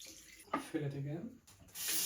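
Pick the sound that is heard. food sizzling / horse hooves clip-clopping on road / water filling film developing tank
water filling film developing tank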